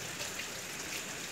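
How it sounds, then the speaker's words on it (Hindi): The first rain of the monsoon season keeps up a soft, even hiss of falling drops in a short stretch with no voices. "सावन की पहली बारिश"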